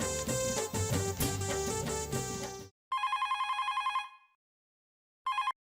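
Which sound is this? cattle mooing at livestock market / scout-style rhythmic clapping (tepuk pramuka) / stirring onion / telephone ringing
telephone ringing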